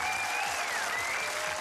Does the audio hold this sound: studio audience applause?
yes